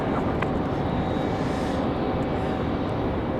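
Boeing 737 MAX 9 jet taking off at Raleigh-Durham airport on a windy day, a steady broadband engine roar that stays loud and continuous throughout, with wind noise mixed in.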